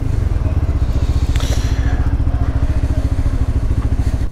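A Lexmoto LXR motorcycle on an afternoon ride, its engine droning steadily and loudly with a rough pulsing rumble and some wind buffeting, punctuated by a brief clatter partway through.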